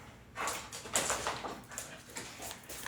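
A dog running around indoors, giving a few short whimpers and yips among scuffling movement, close and moderately loud.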